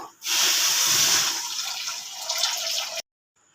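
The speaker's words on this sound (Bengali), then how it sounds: "সেই জন্য আমি এখানে এক বাটি জল দেবো" A bowl of water poured into a wok holding sugar and cracked cardamom for syrup: a loud close gushing splash lasting about three seconds, then stopping abruptly into silence.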